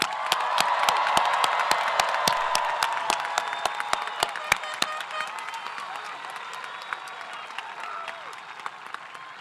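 A high school graduation audience applauds the class of 2026: dense, sustained clapping from a large crowd fills the hall, with sharp individual claps standing out, then slowly thins and fades.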